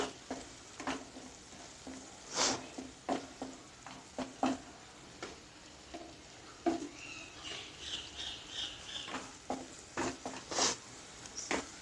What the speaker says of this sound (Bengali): এবার আমি একটু ভালো করে নাড়াচাড়া করে নেব